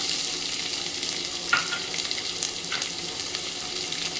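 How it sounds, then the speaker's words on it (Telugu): Onions, bay leaf, cloves, cinnamon, cumin and green chillies frying in hot oil, a steady close hissing sizzle with a couple of brief stirring scrapes. "పచ్చిమిర్చి వేసుకొని ఫ్రై చేసుకోండి"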